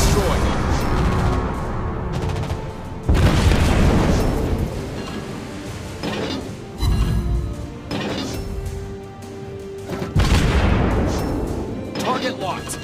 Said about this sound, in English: Enemy ship destroyed!